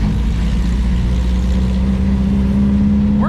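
A 1969 VW Baja engine runs roughly and loudly up close. Its uneven, lumpy idle holds steady throughout, and a faint rise in revs comes near the end.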